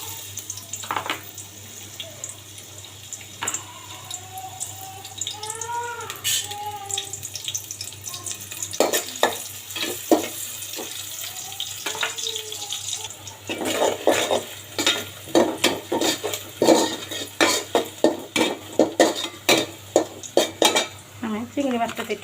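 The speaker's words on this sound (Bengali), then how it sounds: "আর আমি এখানে পেঁয়াজটা দিয়ে দেব।" Onion goes into a pot for a bottle gourd and prawn curry, with a low frying sizzle under repeated metal clatter of a spoon scraping and stirring, plus a few short tonal chirps early on.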